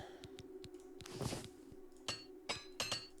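Repair hammer tapping and breaking in The Elder Scrolls IV: Oblivion Remastered, a series of faint metallic clinks and rapid ticks with a brief crunching burst, quiet and close.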